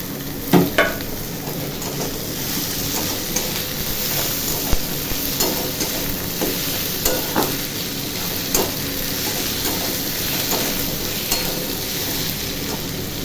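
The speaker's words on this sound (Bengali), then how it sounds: "একটু ভাজা হোক।" Oil sizzles steadily in a pan with vegetables being fried before tomato and lote fish go in, a continuous close hiss broken by scattered clicks of a spatula stirring, with no talking.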